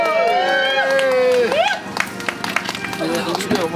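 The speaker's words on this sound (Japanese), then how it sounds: "拍手。" A crowd at a cyclocross race awards ceremony applauds the winner, steady clapping and cheering under loud amplified announcing and voices.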